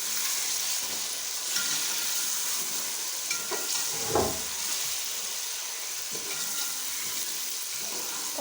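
Spices with red chili powder fry in a pan for matar pulao, a steady close sizzle with light scraping and a few soft knocks of stirring, no voices present.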